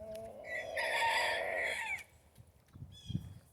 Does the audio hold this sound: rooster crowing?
yes